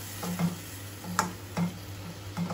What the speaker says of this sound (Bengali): মশলাটা একটু কষিয়ে নিই, তারপর আলুটা দিয়ে দিই